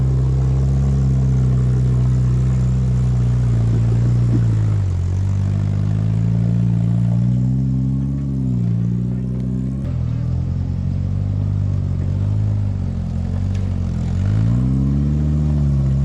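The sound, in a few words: Pathmaker rock buggy driving on trail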